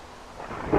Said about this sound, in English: And lightning. Thunderstorm.